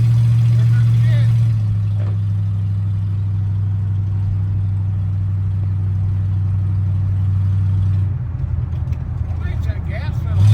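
A 1979 Lincoln Continental's engine drones steadily on its first drive after rescue, a strong low hum holding for about eight seconds before the tone shifts and roughens as the car slows, with no talking over it.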